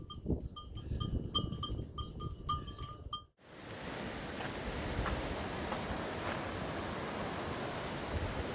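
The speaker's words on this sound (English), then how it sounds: "Little lambs." Little lambs bleat in an Alpine valley near Château-d'Oex, Switzerland, with a burst of quick, bell-like calls over the first few seconds before the scene settles into steady outdoor ambience.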